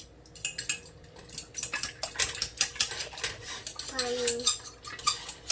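Fork clinking and scraping against a bowl while a breakfast mixture is stirred in a home kitchen, with a rapid, irregular run of metallic taps and scrapes, close and moderately loud.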